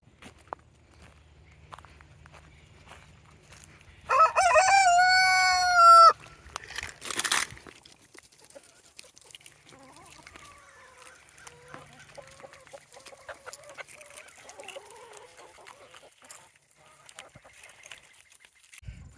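A rooster crows loudly once, followed by a sharp squawk, then soft clucking and shuffling footsteps of chickens continue quietly in the background.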